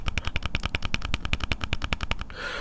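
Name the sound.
Beats Studio Buds+ charging case lid wiggling on its magnet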